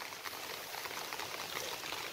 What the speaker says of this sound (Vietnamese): Trời đang mưa lâm râm